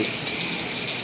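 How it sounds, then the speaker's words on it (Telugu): Steady monsoon rain patters down at night in a dense, even hiss, with no voices or other sounds. "ఆ చినుకు చప్పుడు అద్భుతం కదా."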